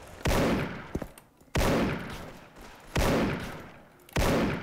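Sniper rifle fire from the WAT 2000 in the Soldier Front video game: four loud, evenly spaced shots, each a sharp crack followed by a long decaying echo, heard alone.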